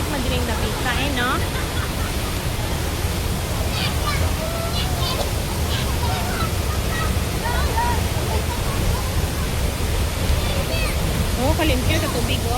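A waterfall on Camiguin island roars in a steady, loud, unbroken rush of falling water, with people talking faintly over it.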